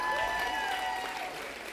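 Gala audience applauding a photographer, a brief burst of clapping that fades slightly over under two seconds, with a faint tonal hum beneath.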